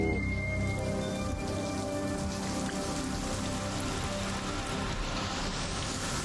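Steady heavy rain falls in a dramatic TV show scene, a dense continuous hiss of drops on surfaces with faint tonal music underneath throughout.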